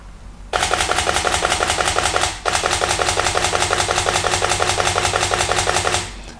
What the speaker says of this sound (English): let me demonstrate you how a 6 frames per second sound like